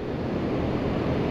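Steady broadband surf on a beach, with waves washing in continuously, plus some wind rumble against the microphone, moderately loud, and no voices.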